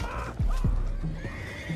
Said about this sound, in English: go find out about those horses down below